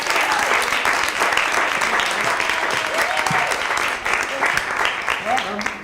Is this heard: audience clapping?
yes